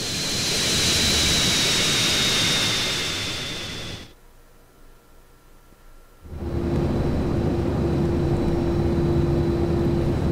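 A propeller plane engine in GTA San Andreas drones loudly and steadily, cuts out to near quiet for about two seconds, then returns as a sustained hum with a rising tonal whine.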